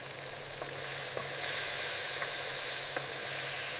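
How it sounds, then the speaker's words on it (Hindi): Chopped tomatoes fry with ginger garlic paste in a kadai for chicken karahi, giving a steady, even sizzle with a few soft stirring clicks, close and continuous with no talk. "अब 5 से 6 चॉप्ड टमाटर डालकर अच्छी तरह मिक्स करें।"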